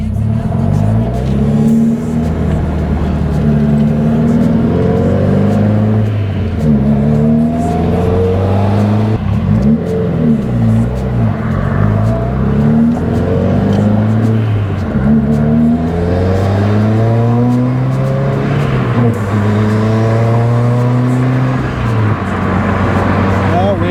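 A Subaru WRX with a swapped six-speed gearbox and twin-disc clutch drives on the road. Its loud engine drone climbs in pitch through each gear, then drops sharply at repeated shifts, close and continuous throughout.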